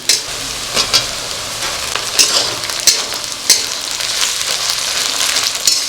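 Tomatoes go into a pan of onions already fried red with sugar, crackling and sizzling loudly while a spoon stirs and scrapes in several sharp strokes.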